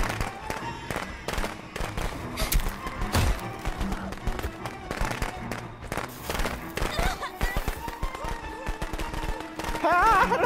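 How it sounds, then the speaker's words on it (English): Fireworks burst in a video game as rapid crackling pops and bangs, dense and irregular, with a player talking over them. "Oh, firework. I like firework."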